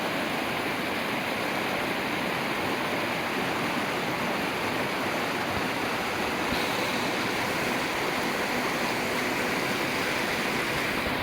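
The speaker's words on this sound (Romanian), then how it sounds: "Cascada Pudna." Putna waterfall in the Tișița gorge pours continuously, a dense, even roar of falling water that stays loud and steady throughout with no voices over it.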